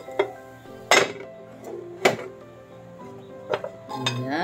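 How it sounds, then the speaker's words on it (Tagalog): A low-carb ham and cheese keto pizza is flipped and set back into a frying pan, giving several sharp clinks and clanks of utensil on metal spread across a few seconds, close and fairly loud, with faint sizzling underneath. "ibabalik naman natin siya dito sa kawali."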